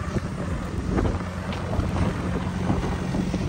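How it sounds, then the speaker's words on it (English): Strong blizzard wind whipping across an open cattle farm, a steady loud roar with rumbling gusts buffeting the microphone, continuous and close, with no talking. "the wind is just whipping"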